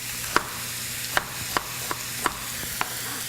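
Meat browns in a frying pan with a soft, steady frying hiss underneath while a few light scrapes and taps of stirring come at irregular intervals, close by.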